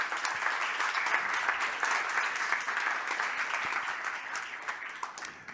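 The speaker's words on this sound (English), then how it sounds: "A big round of applause to our speakers" An audience applauds the speakers at a panel discussion on autocracies and democracies, a dense, even roar of many hands clapping that holds steady throughout and tapers slightly toward the end.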